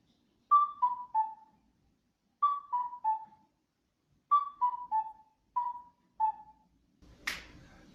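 Epona's Song from Zelda is played legato as a soft, pure melody in a bright register. Short three-note falling phrases repeat with pauses between them, the notes flowing into one another, and a brief noisy burst comes at the end.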